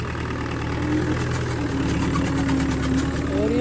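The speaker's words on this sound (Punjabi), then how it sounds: "ਇਹ ਮਿਸਤਰੀ ਨੇ ਪਹਿਲਾਂ ਮਹਿੰਦਰਾ ਟਰੈਕਟਰ ਸਟਾਰਟ ਕੀਤਾ" A Mahindra tractor engine idles steadily close by, a loud continuous diesel rumble with a slight knocking texture throughout, at a village tractor servicing camp.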